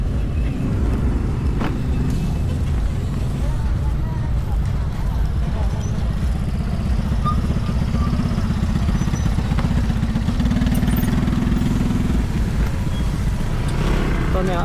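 Motorcycles and other road traffic ride through the Boun That Luang festival in Vientiane, Laos, with a dense, continuous low engine rumble and clatter throughout, and voices mixed into the busy scene.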